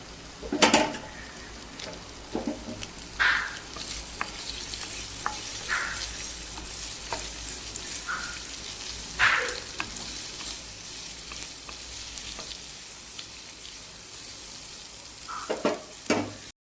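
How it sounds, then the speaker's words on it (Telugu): Eggs frying in hot oil in a pan for an egg curry, a steady sizzle with louder bursts of spattering and occasional clinks of a utensil against the pan, close and without talk. "ఇలా ఫ్రై చేసే ప్రాసెస్ చాలా మందికి తెలిసే ఉంటుంది"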